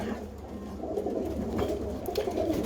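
Birmingham Roller pigeons, a mix of George Mason line and other birds, coo softly in a loft, with a steady low murmur of several birds close by and brief higher calls breaking through.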